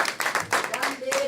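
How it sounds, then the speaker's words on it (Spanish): A church congregation claps together, a burst of close hand-clapping with uneven rhythm, while someone speaks over it and a short tonal note rises at the end. "Puedes darle otro aplauso fuerte."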